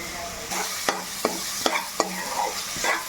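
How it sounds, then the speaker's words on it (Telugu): Masala sizzles steadily in a hot pan while a spoon scrapes and stirs it, giving several distinct clicks and scrapes at a roughly regular pace over the continuous frying hiss, close up and with no talking. "చక్కగా ఇలా వేగితే కొంతసేపు వేగాలి"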